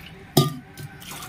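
Water poured into a cooking pan for rava kichadi: a brief splash and gush with a short trickle afterwards, close up, with no talk.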